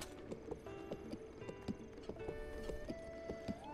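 A horse trots in The Legend of Zelda: Breath of the Wild, its hooves striking in a quick, regular clip-clop rhythm at a moderate level, with soft game background music underneath.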